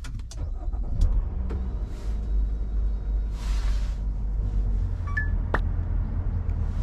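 A 2020 Nissan Elgrand starts up close by: a brief starter crank gives way to a low, steady idle rumble, with a few faint interior clicks and chimes over the engine and no talking.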